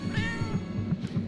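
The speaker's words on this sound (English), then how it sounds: "Hey, look, a little kitty right there next to the guy's cart." A cat meowing in the Tokyo Dark video game, a steady series of short rhythmic mews over a dense, loud ambient background.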